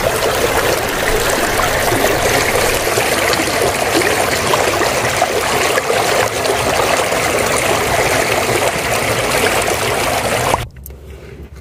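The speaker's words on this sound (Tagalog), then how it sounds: "Sa banda dito guys, may maliit na ilog. Ang ganda niyang pakinggan talaga. Yung tunog niya ba? Yan ang ilog." A small river stream near Mt. Chokai, Japan, rushes and trickles in a steady, close, full wash of water that cuts off abruptly near the end, with no voices.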